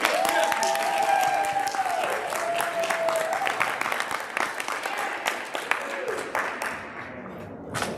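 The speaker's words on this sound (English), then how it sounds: "give them a round of applause" A convention crowd at a live game show applauds loudly and steadily for several seconds, the clapping thinning out toward the end as a voice briefly speaks over it.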